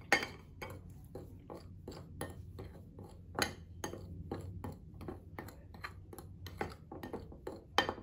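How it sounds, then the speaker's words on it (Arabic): A spoon stirs dry cake ingredients in a mug for a microwave mug cake, making a rapid series of sharp clinks and scrapes against the mug at an uneven rhythm, close and clear with no talking. "كل المكونات الجافة دي هبتدي اخلطها مع بعض كويس قوي كده"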